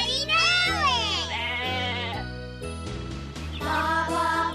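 Sheep bleat loudly and close by in wavering, quavering cries. Several calls follow one another, with a steady low musical backing underneath.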